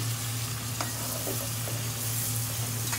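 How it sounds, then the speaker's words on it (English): Onions softening in a covered pan for a traditional lamb chop curry give off a steady, even sizzle with a few faint clicks and stirring knocks, close and continuous, with a low hum underneath and no talking. "Let that cook for a few minutes until the onions become soft."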